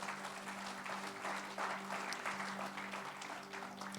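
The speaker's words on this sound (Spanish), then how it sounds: "Dele ese fuerte aplauso al Señor." Church congregation applauds the Lord, a sustained, fairly close burst of many hands clapping, with a steady low hum running underneath.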